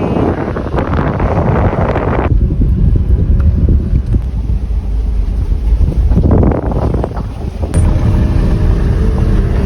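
Strong wind buffets the microphone in loud, roaring gusts among redwoods in Jedediah Smith Redwoods State Park, steady and blustery throughout with brief lulls, no voices.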